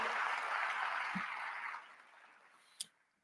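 An audience applauds during the Atlanta mayor's State of the City address. The clapping is fairly faint and fades out after about two seconds, followed by a brief sharp click.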